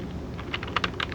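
A short run of soft, irregular keystrokes on a computer keyboard as a text prompt is entered, close and fairly quiet, with a few sharper clicks toward the end.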